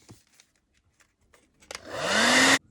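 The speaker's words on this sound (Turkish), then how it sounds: "Kenarlara bakır metalik boyadan şöyle kurutuyorum." A hair dryer blows loudly and steadily for about a second to dry copper metallic paint along the edges of a reverse-decoupage glass bowl, starting abruptly after a few quiet taps and cutting off sharply.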